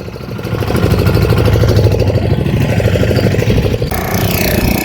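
A fishing boat engine chugs steadily at close range, a loud continuous rumble with a regular throbbing beat and no voices.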